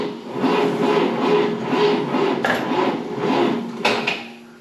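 An electric fuel pump runs on a 1960 Pontiac Bonneville, a loud, close, steady whirring hum that pulses rhythmically about once a second, with a couple of sharp clicks partway through.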